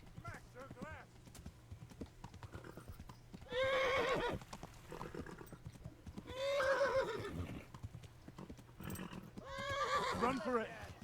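Horse in the medieval video game Kingdom Come: Deliverance, with galloping hooves and three loud, shrill whinnies spaced a few seconds apart over a steady background of hoof clatter and game noise.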